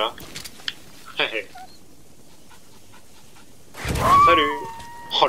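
A wild dog pup in the video game Metal Gear Solid V gives short pants and a few yips, then a louder burst of whimpering yelps near the end, over quiet game ambience with some talk.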